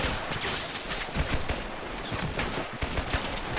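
Machine gun firing from a bunker in a war video game battle: dense, continuous rattling bursts of gunfire with overlapping shots from other weapons, loud and unbroken throughout.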